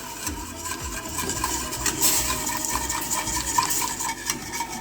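A spoon scrapes and stirs steadily around a pot of hot lemon juice with egg yolks for a French lemon tart filling, a continuous close swishing and clinking with faint bubbling and no voices.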